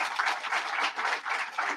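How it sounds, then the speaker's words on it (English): A modest crowd at a school event gives a round of applause for a district superintendent, with scattered, fairly faint clapping that pulses in small waves with no voices over it. "Let's give him a round of applause."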